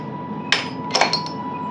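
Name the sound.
train door lock being latched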